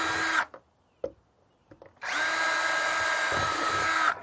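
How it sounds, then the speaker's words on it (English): A power drill bores drain holes in the bottom of a plastic balun enclosure: a brief burst, a few clicks and taps, then a sustained steady whine close by. "I'm going to drill a couple little holes in the bottom to let water flow out"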